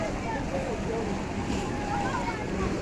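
Sea waves surge against the shore at Dwarka in a steady roar, blended with strong wind buffeting the microphone, while people talk nearby.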